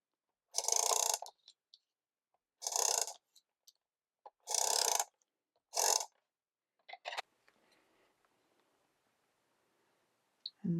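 Adhesive goes onto the back of a card panel in four short, dry, scratchy strokes with pauses between, followed by a few faint clicks and rustles, close and quiet, with no voices.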